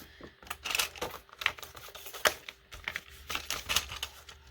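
A slightly dull cutter slices around the edge of a sealed laminated cash envelope, making quiet, crisp clicking and scraping bursts in an uneven rhythm, close up.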